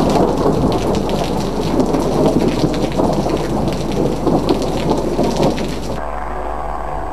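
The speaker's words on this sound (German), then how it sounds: "Das war schon ein starkes Gewitter." A strong pre-monsoon thunderstorm at Lukla in the Everest region: heavy rain pours steadily on surfaces under low rolling thunder, loud and continuous, with the downpour suddenly dropping away near the end.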